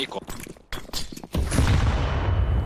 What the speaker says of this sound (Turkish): Oo bomba da yavaş yavaş yanımızda güzel patladı.